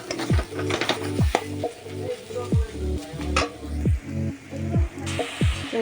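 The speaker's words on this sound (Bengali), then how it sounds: "এখন এই মশলাটা ভালো করে কষিয়ে নেব।" A spice paste with chopped tomato is stirred in a pan without oil, with only a splash of water, giving a light sizzle broken by repeated rhythmic scraping strokes, close and fairly loud.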